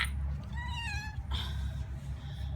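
A pregnant cat meows in a single drawn-out, wavering cry, close and clear over a steady low hum, followed by a brief shorter call.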